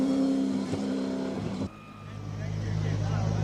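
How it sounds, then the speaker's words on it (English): A Ferrari 296 GTB idles at the starting line of a Cape Town hillclimb, a steady engine drone that drops sharply partway through, then settles into a lower hum with a rising rumble of track ambience. "He's at the starting line with this beautiful 296 GTB Ferrari."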